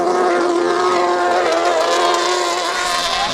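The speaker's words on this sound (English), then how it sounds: "Sounding like he's having some major issues with that motor." A hydroplane race boat's motor running rough with major mechanical trouble, a loud steady buzzing engine drone with harmonic whine, close and continuous throughout with no talk.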